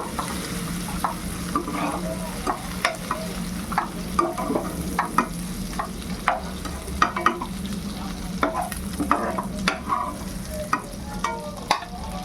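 Onion, tomato and cashew fry in oil with a steady close sizzle, punctuated by regular spatula taps and scrapes as they're stirred, no voices present.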